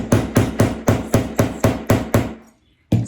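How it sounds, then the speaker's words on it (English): A hammer bangs nine times in a steady, fast rhythm while attaching a gripper, each strike loud, sharp and close, then a short pause before one more hit. "Get out my handy hammer and we'll see what happens."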